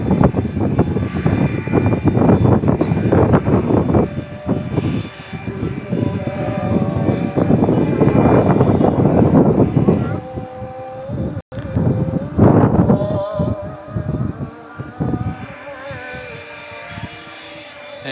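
A plane coming in to land at an airfield roars loudly and close, its engine noise a thick rumbling drone that swells and fades, with a brief drop near the end before the roar resumes.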